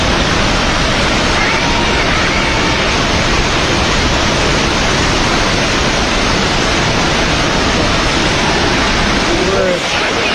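Flash-flood water rushes across the Nepal border, a loud, unbroken broadband roar that holds steady from start to finish with no pauses and nothing standing out above it.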